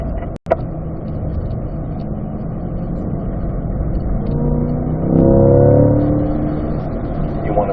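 Car engine droning steadily on a race track while a driver talks, with the pitch shifting partway through as gears change, and a sharp thump near the start.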